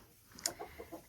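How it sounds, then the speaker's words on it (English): Chickens in a coop built inside an alpaca pen give a few soft, scattered clucks with one sharper squawk, faint and somewhat distant, with no one speaking. "we built a coop for the chickens inside the alpaca pen"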